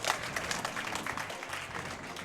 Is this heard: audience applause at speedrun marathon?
yes